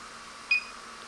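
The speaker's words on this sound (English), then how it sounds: "just heard a beep" A short electronic beep from a DJI Mavic 2 Pro drone controller during setup, a single brief tone sounding alone against a faint steady background hiss.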